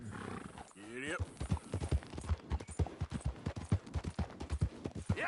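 Horse hooves clip-clop in a steady galloping rhythm through a Red Dead Redemption 2 ride, with a brief whinny early on, while a voice shouts over the hoofbeats.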